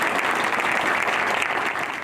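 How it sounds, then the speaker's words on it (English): Protesters on Franklin Street clap in steady, dense applause, a continuous crowd patter at moderate loudness that holds for the whole stretch without breaks. "And the applause didn't stop there."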